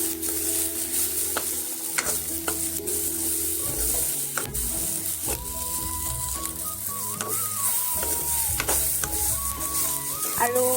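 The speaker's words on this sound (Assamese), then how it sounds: "আৰু এইখিনিও আমি 1 মিনিটমান ভালদৰে ভাজি ল'ম" Maggi instant noodles frying in a pan on medium to low gas flame, a steady sizzle with repeated scraping and clinking of a spatula as they are stirred, close and continuous.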